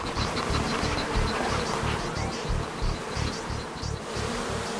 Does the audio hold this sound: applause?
no